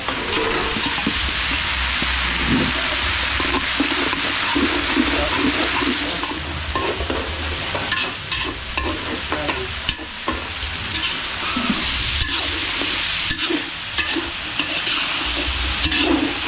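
Garlic and onion sautéing in a large pan for a village fiesta cook-up in Lubao, Pampanga, a loud continuous sizzle with busy stirring and scraping throughout, close and dense.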